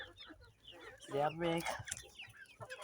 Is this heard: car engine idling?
no